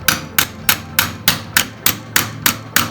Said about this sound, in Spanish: Y ahí, con un martillo,